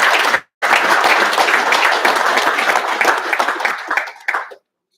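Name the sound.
applause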